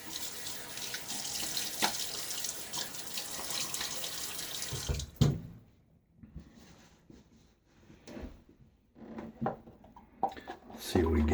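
Water runs loudly from a tap into a sink while a face is wetted for shaving, a steady rush that stops halfway, followed by quieter splashes and handling noises as someone speaks.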